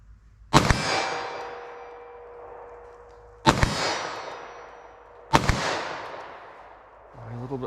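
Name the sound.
gunshots from a Taurus G2C 9mm pistol at targets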